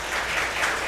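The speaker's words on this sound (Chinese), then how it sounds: "让我们拍手欢迎你" Congregation applause welcoming a new visitor at a Taiwanese Presbyterian church service, a brief burst of steady clapping under a second long with no talking.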